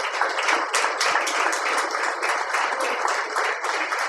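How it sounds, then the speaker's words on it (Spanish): Congregation applause in a church service during a sermon, a dense, steady wash of many hands clapping that holds throughout, fairly loud and even, with no voices over it. "dele un fuerte aplauso al Señor"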